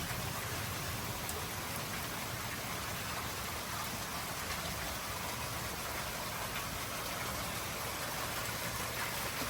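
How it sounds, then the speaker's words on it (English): Steady rain falls heavily and evenly, a constant dense hiss of drops with a faint low hum beneath. "Getting some much needed rain."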